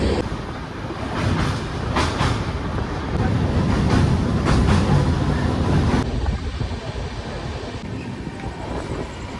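Jagannath Express passenger train on the Kolkata to Puri run, heard from inside with a continuous rumble and rhythmic clickety-clack of wheels over rail joints, steady and close throughout.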